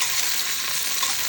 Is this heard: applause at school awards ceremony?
no